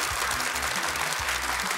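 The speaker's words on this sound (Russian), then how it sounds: "Команды пожимают друг другу руки под аплодисменты нашей студии." A TV quiz show studio audience claps in a dense, continuous burst of applause as the teams shake hands.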